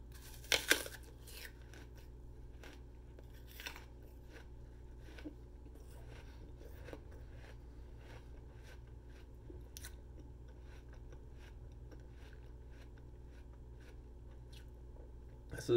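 Crisp apple chewing heard up close: a few louder crunches at the start, then a long run of faint, irregular crackles and chews over a quiet low hum.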